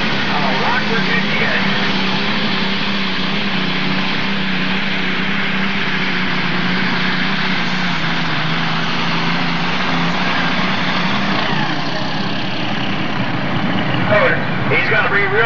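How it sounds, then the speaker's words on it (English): A heavy super stock pulling tractor engine drones loudly and continuously at a 1993 NTPA tractor pull in Arcola, Indiana, a steady roaring rumble that holds at high revs for the whole stretch. "Next tractor, Wayne Kennedy, the color of money."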